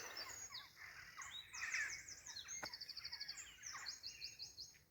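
Several birds chirp and tweet in quick bright bursts and short trilled runs, fairly faint and with no one talking.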